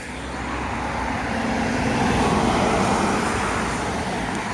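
Continuous road traffic at Skeoch Roundabout in Stirling, Scotland, with cars and heavier trucks rumbling past in a steady swelling roar that peaks midway and stays close throughout.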